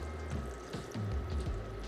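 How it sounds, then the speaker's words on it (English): Starchy pasta water poured into a pan of melting reduced-fat cream cheese for a Hamburger Helper-style dish: a short, soft splashing trickle lasting under two seconds, faint and close, with no talking. "Add a little pasta water."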